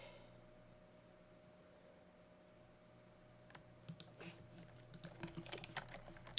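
Computer keyboard keys clatter in quick irregular bursts of typing in the second half, close and fairly quiet, after a stretch of low electrical hum with no speech.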